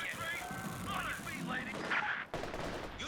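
Machine gun fire in Company of Heroes 2 crackling in rapid bursts amid battlefield noise, steady mid-level rattling with a sudden cut and a thump near the end; someone talks over it.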